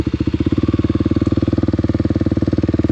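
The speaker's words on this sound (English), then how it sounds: "pull in the clutch, shift down, limp the throttle, and then slowly let the clutch out" A motorcycle engine running at a steady, fast-pulsing beat, a close and fairly loud throb with no talking, though no clear downshift or rise and fall in revs stands out.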